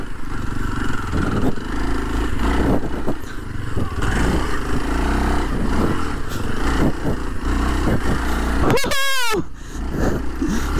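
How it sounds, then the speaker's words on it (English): A Kawasaki KLX 230 dirt bike rides along a trail, its engine a continuous loud drone with rising and falling revs throughout and a brief sharp whine near the end. "So garit natin si Kawasaki KLX 230 guys."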